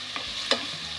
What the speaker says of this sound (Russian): А в мультиварке вот у нас тут жарится морковка и лук.